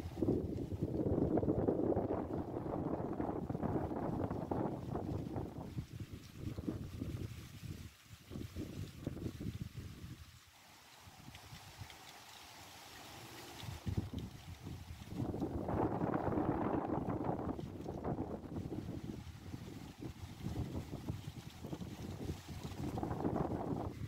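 Wind gusts buffet a portable homemade wind turbine converted from a hoverboard, fitted with a tail rudder, on a windy day: loud, roaring microphone rumble that swells, drops to a lull midway, then builds again.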